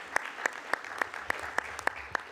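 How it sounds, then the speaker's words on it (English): A small audience at a census program management review claps in a sparse, evenly spaced rhythm of single sharp claps, close and brief. "well-deserved round of applause."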